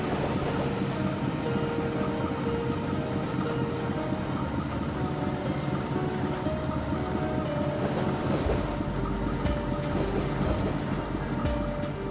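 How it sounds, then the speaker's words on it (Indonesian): The passenger train KA 144 Gaya Baru Malam Selatan rolls into Purwosari station, a steady loud rumble of wheels with rhythmic clicks over rail joints and a high squeal, continuous and close throughout. "KA 144 Gaya Baru Malam Selatan tiba di stasiun Purwosari dan masuk ke Sepur 1 untuk berhenti"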